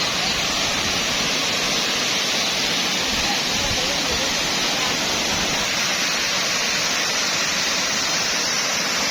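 A waterfall in southern Laos, where a zipline drops riders into the water, roars in a loud, dense, unbroken rush that stays close and constant throughout.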